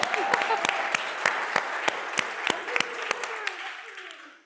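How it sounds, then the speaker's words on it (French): Audience applause in a seminar or workshop room, steady clapping from a modest group, fairly distant, fading out toward the end. "On peut l'applaudir quand même"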